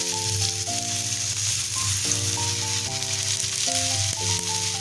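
A cabbage paratha fries with oil on a pan in a continuous loud sizzle and crackle, with music playing throughout.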